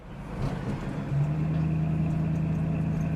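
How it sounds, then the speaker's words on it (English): A 1967 Mustang GTA V8 exhaust drones steadily under load, a low, continuous rumble from inside the moving car, with a brief shift early on. "Let's hear the exhaust note of this awesome 67 GTA Mustang under load."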